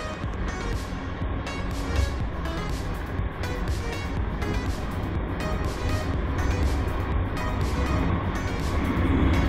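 Steady road and engine noise from a car passing a gray van on a highway in Negros Oriental, Philippines, a continuous broadband rush with a slight rise in level over the stretch.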